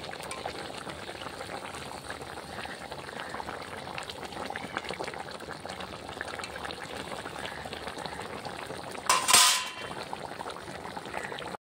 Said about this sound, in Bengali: আর গ্রেভিটা এখন ভালোভাবে ফুটছে।